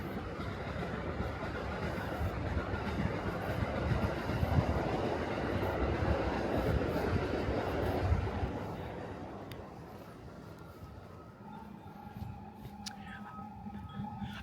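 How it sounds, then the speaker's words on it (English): A New York subway B train of the R211 model rolls past a walker on Avenue X in Brooklyn, a broad rumbling roar that holds strong for about eight seconds and then thins into a fading distant hum. "I want to say that was a B train."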